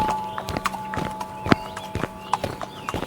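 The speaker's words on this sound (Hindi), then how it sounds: "दोनों अपने अपने घोड़े पर सवार होकर जंगल की ओर चल देते हैं।" Two horses carrying riders walk toward a forest, their hooves clip-clopping in a steady uneven rhythm, close and clear, with no talking.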